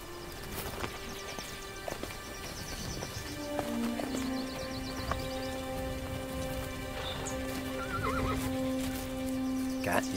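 A horse whinnies in drawn-out calls while hooves clop intermittently, set against a faint outdoor hiss, moderately distant.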